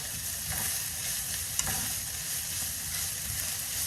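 Seasonings being stirred into taco meat frying in a pan, with a steady close sizzle and soft scraping stirs, one slightly sharper knock partway through, no voices.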